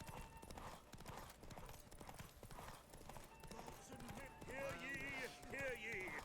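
Geralt's horse Roach gallops in The Witcher 3 game during a derby race, with a steady, rapid hoof clip-clop throughout and someone talking over it, then other voices joining near the end.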